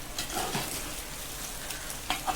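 Egg hakka pasta being stirred with salt in a pan, giving a steady soft sizzle with scattered scraping clicks from the stirring, fairly quiet and close, with no voices.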